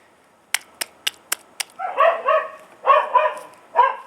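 A few sharp clicks are followed by a nearby dog whining and giving short, high yelping barks in bursts.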